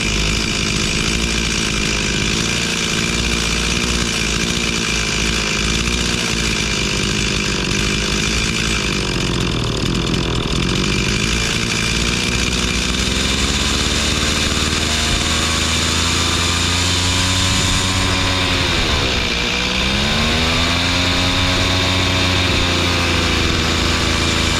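Stihl MS 260 Pro chainsaw running steadily through the whole stretch, close and loud, its engine pitch dipping and rising as the carburetor idle, low and high speed are adjusted; no talking.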